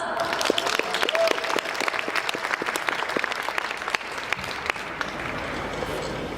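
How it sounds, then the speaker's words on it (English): Audience applause greeting a former president's farewell speech at an evening debate event, a broad crowd of clapping hands, strong at first and easing slightly toward the end, with no voices. "Please give a loud of applause."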